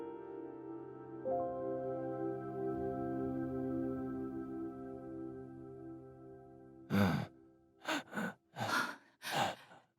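In a radio drama, a sustained musical drone gives way to four heavy, uneven breaths, ragged gasps and sighs coming close and loud in quick succession.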